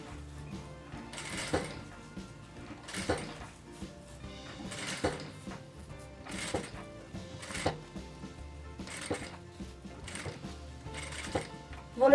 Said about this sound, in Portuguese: Continuo costurando aqui.